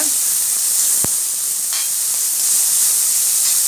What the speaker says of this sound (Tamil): இப்போ வெங்காயம் நல்லா வதக்க விட்டுடலாம்